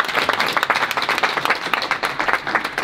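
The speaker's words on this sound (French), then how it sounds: "Je vous demande d'applaudir, s'il vous plaît." Audience at a retirement-home event gives a short burst of dense applause, many hands clapping together at close range, with no talking over it.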